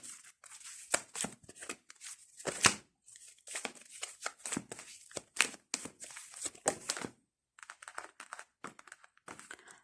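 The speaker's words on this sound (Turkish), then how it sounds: "Bu arada ben kart seçmeyi dediğim gibi sevmiyorum. Düşürmeye çalışıyorum onun için." Tarot cards being shuffled by hand to drop one out, heard close up as a steady run of papery riffling and flapping bursts with brief pauses between them, and no talking.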